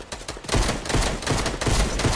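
Pistol gunfire in the video game Fortnite crackles in a fast, dense string of shots over about two seconds, loud and close with no talk.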